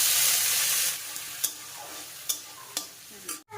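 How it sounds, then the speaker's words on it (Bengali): Onions tipped into hot oil in a home kitchen, a loud, hissing sizzle that settles after a second into a quieter fry, with three sharp spatula scrapes and a clatter at the end, no voices. "লাল লাল করে পেঁয়াজটা ভাজার পর"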